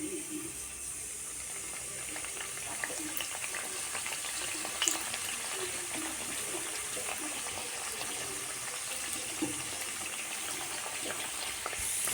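Karjikai, sweet stuffed dumplings, deep-frying in hot oil, a steady close sizzle and bubbling with soft scattered crackles, continuous throughout with no voices.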